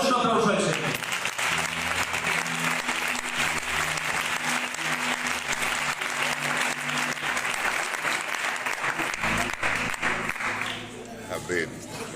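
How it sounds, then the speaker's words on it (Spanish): Congregation in a Spanish-speaking church breaks into long, loud applause with organ or keyboard tones sounding beneath, the clapping fading out near the end as a voice returns. "Le damos un aplauso al Señor"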